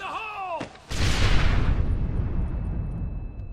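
A large explosion in the Red Dead Redemption video game: a brief voice and sharp crack, then a loud deep blast that rolls and rumbles on for several seconds.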